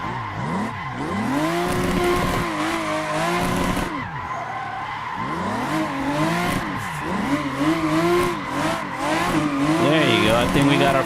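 Drifting car in Assetto Corsa, driven on a Fanatec ClubSport RS wheel with handbrake-assisted slides: loud, continuous tyre squeal that swoops up and down with the revving engine across repeated slides, with talk over it.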